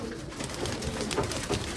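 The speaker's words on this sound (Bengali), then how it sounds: "পায়রা ছাড়া হচ্ছে" Racing pigeons being released from a loft for a flying competition, cooing steadily in soft overlapping calls close by, with flutters and rustling around them.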